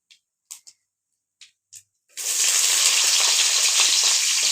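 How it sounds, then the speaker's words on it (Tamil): Mustard seeds hit hot oil for roadside-style idli sambar: a few soft clicks, then a sudden, loud, continuous spluttering sizzle that holds steady to the end. "ரோட்டுக்கடை இட்லி சாம்பாருக்கு எண்ணெய் ஊற்றி கடுகு சேர்த்துக்கலாம்."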